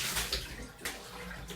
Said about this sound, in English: afterwards, after it all goes down the drain, give it one more rinse